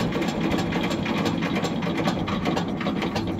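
A Shifeng 240 LR tractor engine idles at close range and refuses to stall, putting out a loud, dense, steady rattling chug with no speech over it.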